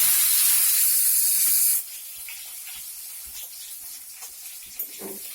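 Tomatoes hit hot oil with fried black cumin seeds, starting with a loud, bright hiss that drops sharply to a softer steady sizzle with faint crackles.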